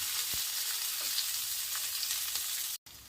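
Tamarind, tomato and onion frying in a pan, a steady close hiss and crackle of sizzling that runs evenly until a brief cut near the end.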